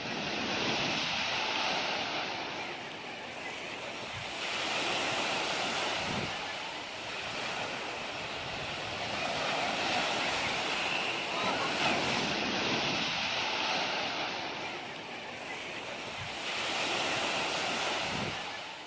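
Ocean waves on a Hawaiian beach roll in with a broad, continuous roar that swells and eases in slow surges, mixed with gusty wind buffeting the microphone.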